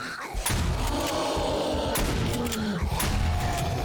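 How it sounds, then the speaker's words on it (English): A shotgun fired repeatedly in 7 Days to Die alpha 16.4, several loud, close blasts about a second apart over a steady rumbling bed of noise, with no talk. "And then now let's get out the shotgun."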